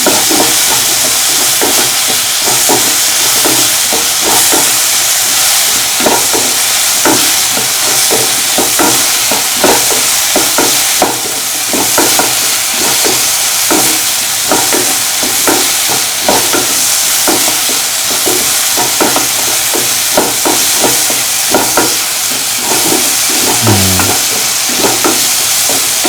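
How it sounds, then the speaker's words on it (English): Salt being mixed into semolina pancake batter over a flame: brisk, rhythmic stirring strokes scrape and slosh continuously over a bright sizzling hiss, close and loud throughout. "Mix the salt into the mixture thoroughly."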